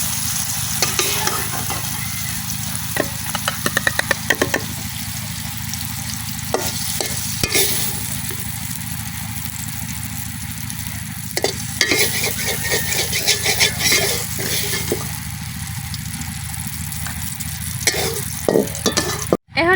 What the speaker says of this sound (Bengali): এই তেলের মধ্যে আমি দিয়ে দিতেছি শুকনা মরিচ শুকনো মরিচগুলো আমি খুব ভালোভাবে বাজালাম